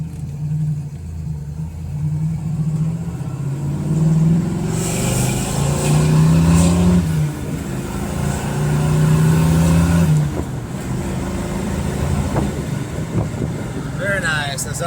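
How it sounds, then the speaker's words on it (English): A 1970 Ford Torino GT engine gets some gas, its low rumble rising and swelling in two long revs before settling back, heard up close with speech breaking in at points. "This little four-way, I'll give it a little gas."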